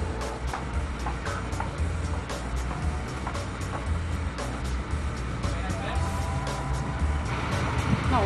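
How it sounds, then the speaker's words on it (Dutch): A bus passing on a city street amid busy traffic, a broad rumbling engine and road noise that holds steady over several seconds, with voices talking nearby. "Kijk, er komt nog een bus."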